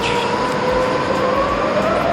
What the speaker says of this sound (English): waiting for our train to go to Venice